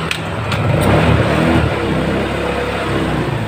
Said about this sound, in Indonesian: coba kita akan mengetes apakah motor ini bisa hidup atau tidak